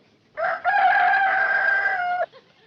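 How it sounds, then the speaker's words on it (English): A single rooster crows once, loud and close, a sustained cock-a-doodle-doo lasting about two seconds, with nothing else around it. "Rooster crows before he goes to bed."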